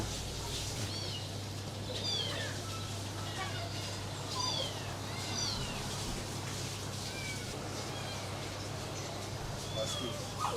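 A Maine Coon cat meows repeatedly at a moderate distance, its calls spread out over a steady murmur of crowd noise and voices at an open pet market in China.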